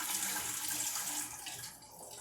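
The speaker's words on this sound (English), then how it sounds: "I'll add water." Water runs into a cooking pot for a one-pot dinner of beef stock, a faint steady splashing pour that eases off slightly near the end, with no voices.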